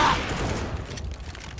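Gunfire in the video game CS:GO, a loud burst at the start followed by a rapid rattle of shots fading quickly over under two seconds.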